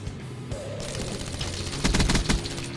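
Gunfire during a Call of Duty: Black Ops 3 multiplayer match, a steady stream of muffled shots building to a louder, dense burst of rapid fire near the end, with game ambience underneath.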